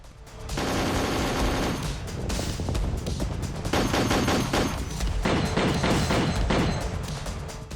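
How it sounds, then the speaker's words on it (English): Sustained battlefield gunfire roars almost without pause, dense overlapping shots and bursts with heavy thumps, loud and continuous throughout in a frontline clash between Russian and Ukrainian forces. "Shot after shot continued, even though the enemy was still nowhere to be seen."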